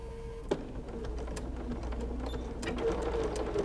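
A sewing machine back stitches through cuddle minky binding, a low steady motor hum with faint needle ticks and a sharp click near the start, close and without talk.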